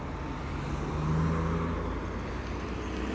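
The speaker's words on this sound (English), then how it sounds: "waiting for some cars to pass here." Cars passing on a road in Leipzig on a sunny day, a steady close traffic rumble that swells slightly midway as a vehicle goes by, with no talking.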